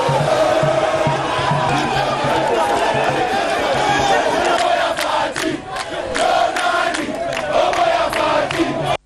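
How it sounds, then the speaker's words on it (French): A crowd outside a cathedral swarms around the president, a loud, continuous mix of chatter, shouts and cheering with overlapping voices, fading briefly before surging again. "le président de la République n'a pas évité le bain de foule venu en sa rencontre"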